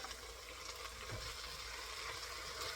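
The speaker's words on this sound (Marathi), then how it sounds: "तेल सुटेपर्यंत त्याला टोमॅटोला फ्राय करायचं आहे." Chopped tomatoes fry in hot oil in a pan for a whole masoor usal, a low steady sizzle with a faint clatter partway through and no voices.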